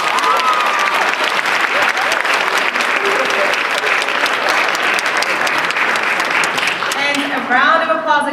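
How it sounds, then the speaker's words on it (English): Audience at a Malden High School Poetry Out Loud semifinal giving students on stage a loud, steady round of applause that fills the room, with a few voices rising near the end. "A round of applause again to the students on stage"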